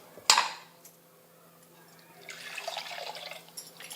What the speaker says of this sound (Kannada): ಈಗ ಮಿಕ್ಸಿ ಜಾರಿಗೆ ಸ್ವಲ್ಪ ನೀರು ಹಾಕ್ಕೊಂಡು ಹಾಕೋತೀನಿ ನೋಡ್ರಿ